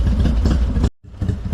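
A Harley-Davidson Softail motorcycle idles steadily up close, a dense low rumble with clattering texture that drops out briefly before resuming.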